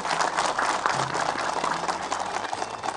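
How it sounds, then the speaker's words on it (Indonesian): A studio audience at an Indonesian religious television show claps in a dense, continuous wash that stays even and fairly loud for the whole three seconds, with no talk over it. "Tepuk tangan sekali lagi."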